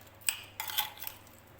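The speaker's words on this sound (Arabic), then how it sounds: "اقلب بقى كده الصلصه بالخضار" A spoon scrapes and clinks in a pot as tomato sauce is stirred with vegetables for an onion and vegetable meat tagine. It is soft and close, a few brief metallic scrapes over quiet background.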